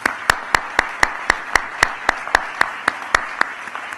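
Conference audience applauding the organizing committee: a dense wash of clapping with sharp, evenly spaced individual claps standing out near the microphone, steady and sustained throughout.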